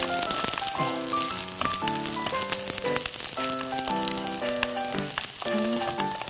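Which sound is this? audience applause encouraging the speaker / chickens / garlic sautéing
garlic sautéing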